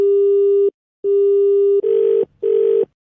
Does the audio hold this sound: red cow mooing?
no